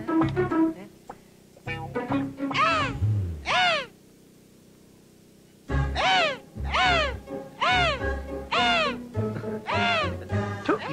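A man imitates a crow with repeated nasal cawing calls in two bursts separated by a short silence, loud and close, in a Telugu comedy film scene.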